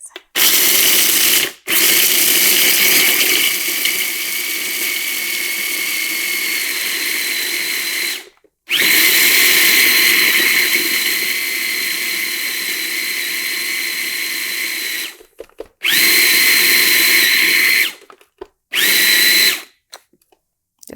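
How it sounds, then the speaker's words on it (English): A food processor pulses date paste into dough, its motor whirring loud and steady in long runs broken by short pauses, then cutting in and out in quicker bursts toward the end. "then I'll add the date paste and pulse until the dough forms"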